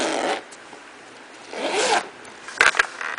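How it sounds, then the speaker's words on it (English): A zipper closes a knitting project bag that holds yarn, scissors, stitch markers and stoppers. It runs in short rasping pulls with pauses between them, close and clear, and ends in a few quick tugs, with no voices. "Then you just zip it up."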